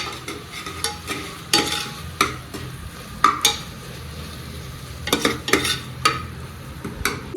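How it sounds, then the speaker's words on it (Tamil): Ingredients for mushroom biryani sautéing in a pan until light brown: a steady frying sizzle, with a spoon repeatedly scraping and clattering against the pan in uneven strokes, close and fairly loud. "ஸோ நல்லா இதை சாட்டே பண்ணிவிட்டு நல்லா கொஞ்சம் லைட் ப்ரௌன் ஆனதும் டொமேட்டோஸ் ஆட் பண்ணிக்கலாங்க"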